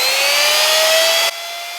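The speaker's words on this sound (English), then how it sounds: "I'm just going to use a little multi-tool just to clean that" A small multi-tool grinds at high speed against a metal rocker arm chamfer, a bright steady whine with a slowly rising pitch that drops abruptly in level near the end.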